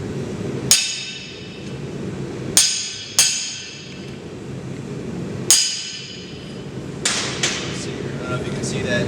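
A hammer striking steel on a chisel plate set on an anvil, sharp ringing blows spaced a couple of seconds apart, each with a bright metallic decay, then a few lighter taps.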